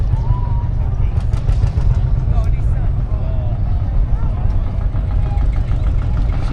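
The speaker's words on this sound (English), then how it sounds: "So there's another Marshall diesel tractor over there." A Marshall diesel tractor engine, one of several Field Marshalls at a Welland steam rally, runs with a steady, low chugging rumble close by, with voices faintly audible in the background throughout.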